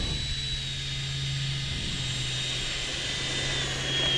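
A Freewing F-18 90mm electric ducted-fan RC jet taxiing slowly on grass gives a steady, continuous whine and hum at an even level, close by, with no talk.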